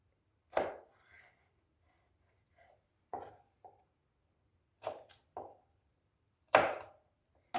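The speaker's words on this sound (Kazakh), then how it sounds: "Осындай шамадағы қиярымызды осылай шамадағы қылып турай береміз." A knife chops cucumber into pieces on a cutting board, several sharp separate cuts spaced a second or two apart, close and crisp against a quiet room.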